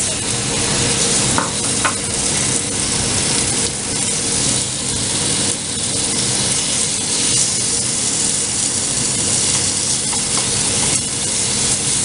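Fresh thinly sliced meat for spaghetti carbonara frying on low heat in a pan, a dense continuous sizzle and hiss with faint stirring scrapes, loud and close throughout, with no voices.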